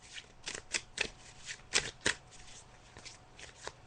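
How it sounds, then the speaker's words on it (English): Tarot cards being shuffled by hand, a rapid run of crisp riffling flicks and soft slaps close up, loud and steady with no talk. "I'm just going to shuffle the cards and just pull 3 cards"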